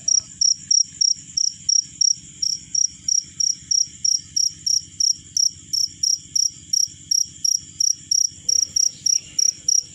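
Steady, rhythmic cricket chirping, evenly pulsed trills repeating about three times a second, close and continuous with no voices, from crickets placed in a rice field.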